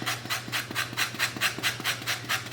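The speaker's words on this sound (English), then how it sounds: "I'm going to take some of the rind of the orange and I'm going to grate it in." Orange rind being grated into zest for a beverage, a quick run of rhythmic rasping strokes, about ten evenly spaced scrapes, close and fairly quiet with a faint hum beneath.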